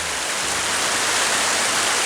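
The Brennica river waterfall pours in a dense, steady rush of water, loud and close, with no other sounds.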